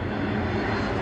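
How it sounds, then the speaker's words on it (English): Airplane landing at a nearby airport, passing low overhead with a loud, continuous engine roar that fills the whole moment. "It's a plane landing."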